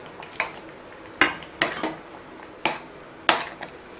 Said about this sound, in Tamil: இது கூட நம்ம வறுத்து வச்சிருக்கிற முந்திரி திராட்சை சேர்த்து நல்லா கலந்துக்கலாம்